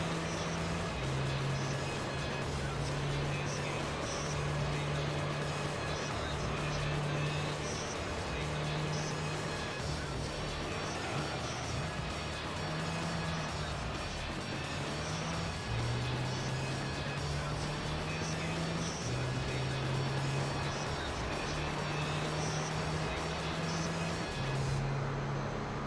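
A steady, droning engine hum of the LMP Dragon race car in Gran Turismo 3, with slowly rising and falling pitch the whole time, a constant mechanical roar with faint background chatter.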